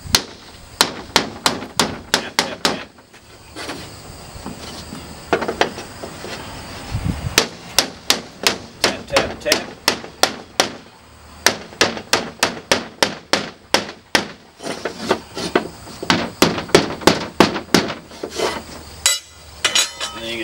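A flat bar pries and snaps off scored wall tile, giving dozens of sharp, close cracks and knocks in quick irregular bursts across the whole stretch, with short pauses between volleys and no talk.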